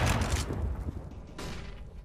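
In a CS:GO match on Dust 2, Tec-9 pistol shots crack out in a couple of quick bursts, sharp and mid-distance, amid other game noise.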